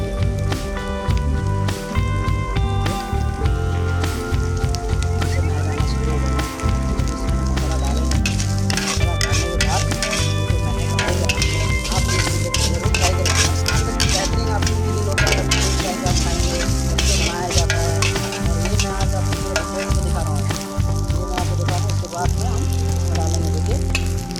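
Rice for egg fried rice stir-fries in a hot pan, a continuous sizzle broken by constant scraping and clinking of a spatula, close and busy throughout.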